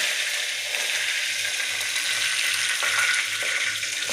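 Mustard seeds and curry leaves sizzling steadily in hot oil in a pan on the stove, a continuous close hiss with faint crackles and no talking.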